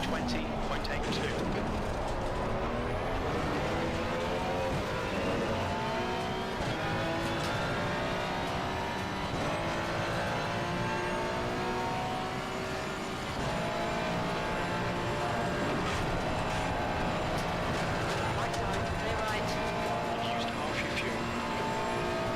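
Race car engine in the LFM racing sim at Spa, droning and shifting pitch continuously through gear changes for the whole stretch, loud and steady, with a driver's voice talking over it.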